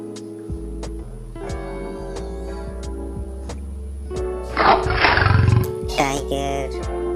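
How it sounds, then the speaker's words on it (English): A tiger gives a loud, rough roar over steady background music, swelling in the middle and trailing off near the end. "tiger"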